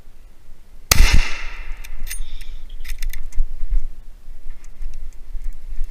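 A single loud gunshot rings out during a driven hunt in Sologne, a sharp crack followed by a fading echo and scattered rustling and clicking in a quiet outdoor setting.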